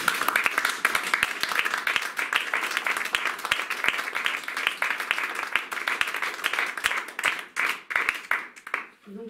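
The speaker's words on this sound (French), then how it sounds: "Franchement, je pense qu'on peut applaudir M. Turing" An audience at a talk claps in tribute to Alan Turing, a brisk run of individual handclaps that holds steady and then thins out into scattered final claps and fades.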